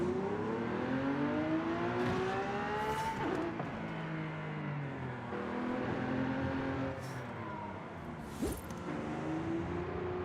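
A car engine in the racing game Forza Horizon 5 revs up and shifts through gears repeatedly, with tire squeal and passing cars, loud and continuous with no talk.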